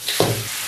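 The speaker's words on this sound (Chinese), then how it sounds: "炒香后倒入酸菜、鱼骨，翻炒几下" Sauerkraut and fish bones hit hot oil with a brief sharp sizzle and a quick stir in the pan, close and short, fading within a moment.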